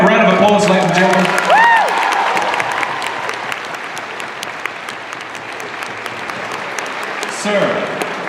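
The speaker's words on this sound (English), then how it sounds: "Give them a round of applause, ladies and gentlemen." Large audience at a comic convention celebrity panel breaks into loud applause and cheering, with a whoop rising early on; the dense clapping carries steadily for several seconds, with voices and shouts over it.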